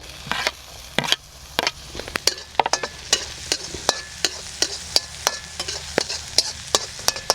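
Capsicum and green chillies stir-fried in a pan for veg manchurian over an outdoor village fire, with a steady sizzle under frequent sharp scrapes and clacks of a spatula stirring in an uneven rhythm.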